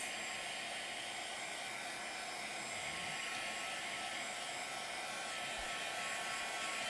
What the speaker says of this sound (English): these with my heat gun just to make sure they're dry